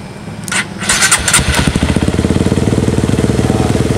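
A motorcycle engine running a Juken 5 ECU setup cranks on the starter, catches, and settles into a steady, close, rapidly pulsing idle through the exhaust.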